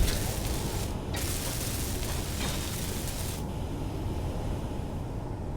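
A welding tool hisses continuously in Space Engineers, a broad steady rush that cuts briefly at about one second and drops in intensity after three and a half seconds.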